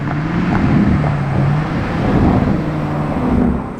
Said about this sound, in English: take a listen, I think we have a Urus Performante